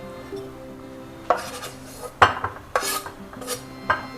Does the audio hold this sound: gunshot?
no